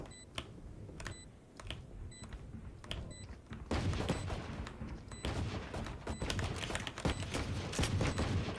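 Valorant video game gunfire in a run of rapid shots, quieter at first, then louder and denser bursts, over game ambience with small chiming cues.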